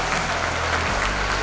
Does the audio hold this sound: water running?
no